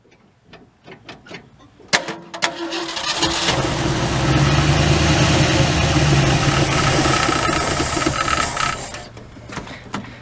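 A 1967 Ford Galaxie 500 engine cranks for the first time in 25 years, with a few clicks, then a loud starter whir that catches into a rough, steady churning run before faltering near the end.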